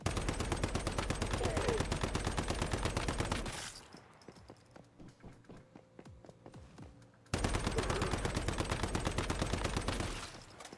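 Rapid automatic gunfire from a shrapnel weapon in the video game Endless Dream, loud sustained bursts at the start and end with a quieter gap of scattered impacts between.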